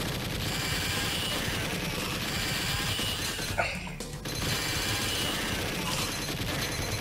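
Rapid gunfire from the Alien 3: The Gun arcade shooter rattles on as a dense, loud, continuous barrage, easing briefly just before the four-second mark before the shooting resumes.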